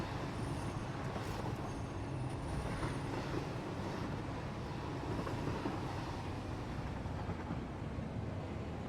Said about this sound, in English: Train going back with ore on it